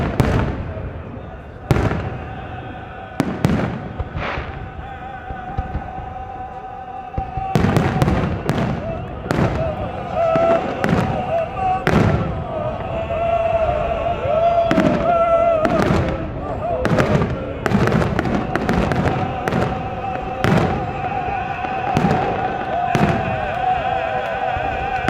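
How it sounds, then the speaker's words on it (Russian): Colourful, long fireworks salute for the Prophet Muhammad's birthday, with repeated loud bangs and crackling bursts at irregular intervals under a steady crowd murmur and voices. "был дан красочный и продолжительный салют в честь дня рождения пророка Мухаммада"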